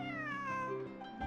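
A cat in the video game Genshin Impact gives one long, drawn-out, wavering meow, loud and close, with no talking.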